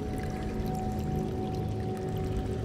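Steady running water in a video game, a continuous close pour with an even rushing texture and no voices.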